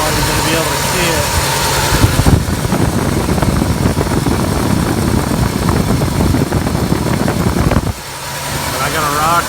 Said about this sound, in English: I heard a noise coming from this valve cover area.